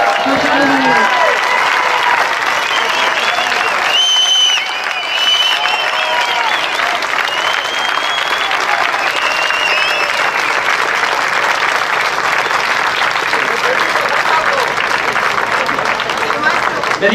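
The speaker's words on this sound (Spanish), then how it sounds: "Please give a big round of applause to Juan A Carlos." A crowd at a public talk gives loud, sustained applause that holds at full strength throughout, with some audience voices mixed into the clapping.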